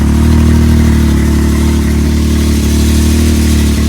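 A Turbo 900 machine's engine runs with a loud, steady, close drone that holds an even pitch throughout, with no voices.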